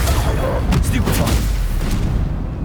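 A Stupefy stunning spell in Hogwarts Legacy gives off a loud, booming burst of combat noise with short percussive hits, ringing out over a steady wash of game sound, with a voice mixed in.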